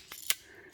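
A wire stripper biting through and pulling insulation off a wire during wiring work on a custom Harley-Davidson motorcycle build: a few brief, sharp snipping clicks, close and crisp, with quiet pauses between them.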